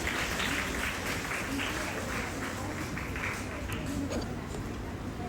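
An audience at a school investiture ceremony gives a student team and their mentor a steady round of applause, a dense wash of clapping in a large room with a faint voice underneath.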